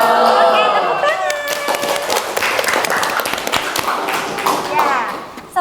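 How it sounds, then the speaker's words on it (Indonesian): Children in a classroom clap together in a steady stretch of applause, with scattered sharp hand claps and voices chattering over it throughout. "Oke, tepuk tangan."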